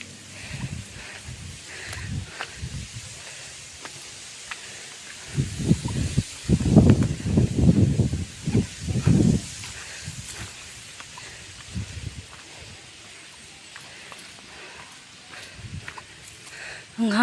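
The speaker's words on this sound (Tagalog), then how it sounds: "Ang hangin dito." Wind gusting across an open farm field planted with coconut palms in Sindangan, with low rumbling buffets that build into stronger bursts mid-way and then ease back to a soft, steady blow.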